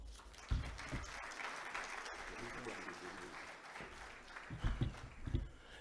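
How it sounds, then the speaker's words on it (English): Applause from a conference audience at a corporate directors' opening session in Nigeria, steady dense clapping at a moderate distance, with a few louder claps near the end. "Can we have another round of applause for Otumba Bimbora Ashiru, CIoD?"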